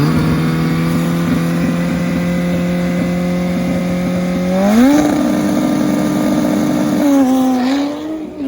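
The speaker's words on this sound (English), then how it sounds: "You got to see this old school turbo bike." An old-school turbocharged motorcycle, a classic KZ, racing past: a loud, sustained engine whine holding steady, then climbing sharply in pitch twice as it revs through the gears.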